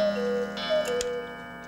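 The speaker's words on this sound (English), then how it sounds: "Every hour the clock will cuckoo." A cuckoo clock calls the hour with two falling two-note cuckoos in a row, clear and fairly loud over a faint mechanical background.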